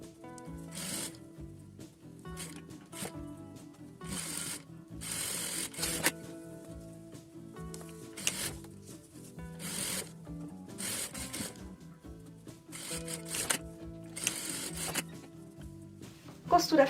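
A sewing machine runs a straight seam on a fabric maternity bag lining in repeated short bursts, each a few seconds of rapid stitching separated by pauses, close and moderately loud.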